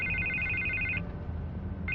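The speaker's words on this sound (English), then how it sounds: "I can't get the phone to stop ringing." A telephone ringing in the Batman Telltale Series game, Episode 3: an electronic ringtone trills for about a second, pauses, then starts again, clear over a low background hum.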